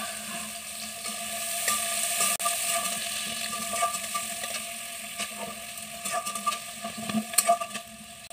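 Onion, green chilli, ginger and garlic sizzling in hot oil in a kadhai, a steady close frying crackle with occasional stirring scrapes and spatter bursts, no talking.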